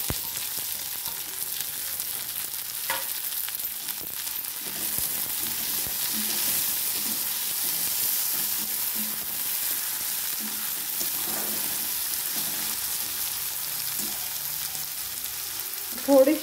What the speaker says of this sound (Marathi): आणि हे सर्व छान मिक्स करून घ्यायचे. टमाटा पण घ्यायचा आहे टाकून ह्याच्यात.